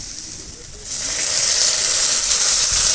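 Potatoes seasoned with salt and turmeric fry in a pan, a broad hissing sizzle that swells louder after about a second and holds steady, close up with no speech.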